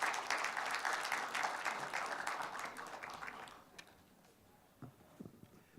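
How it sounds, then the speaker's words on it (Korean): An audience at an academic forum welcomes a professor with applause, a dense patter of clapping that fades out midway, followed by a few faint thuds and rustles in a quieter hall. "여러분 큰 박수로 신용화 교수님을 환영해 주시기 바랍니다"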